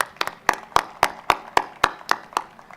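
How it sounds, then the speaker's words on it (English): Steady, evenly spaced claps ring out one at a time at a school event, about four per second, crisp and close with no voices. "Can we give a round of applause to all the parents who have supported the path?"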